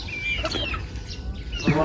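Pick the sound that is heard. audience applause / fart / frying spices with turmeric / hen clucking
hen clucking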